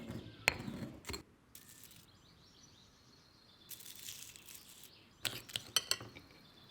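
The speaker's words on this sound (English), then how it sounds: "you grind up the hard tears of the dried tree gums, mastic and frankincense" Pestle scraping and grinding hard dried tree-gum tears of mastic and frankincense in a mortar, heard as a few separate bursts of gritty scraping and clinking with quiet pauses between.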